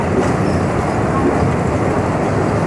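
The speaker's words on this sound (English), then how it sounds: "You're riding aboard one of the new Mark V monorails" Disneyland Mark V monorail train from 1989 riding along its elevated beam track, a steady continuous rumble and hum of the moving cabin heard from inside, with no pauses throughout.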